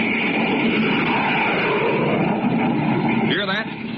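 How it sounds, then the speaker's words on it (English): A blazing jet plane roar from an old radio space-adventure drama: a loud, steady, broadband rumble holding throughout, with a brief rising whine near the end. "You're listening to the blazing roar of a jet plane."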